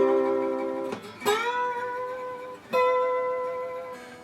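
Slide guitar notes ring out with a gently wavering vibrato, each sustained tone gliding into the next, with a couple of fresh plucked attacks, played alone and close.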